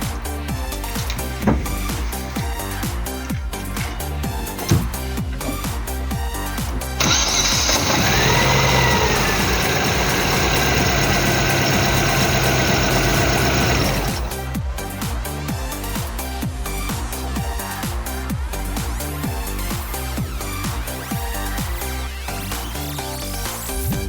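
A Chevrolet Kalos 1.4 16V F14D3 engine idles close by with an uneven, misfiring rumble. A steadier, louder hum joins it for several seconds in the middle before the rough idle carries on alone.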